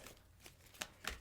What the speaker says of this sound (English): I'm just going to shuffle a bunch of times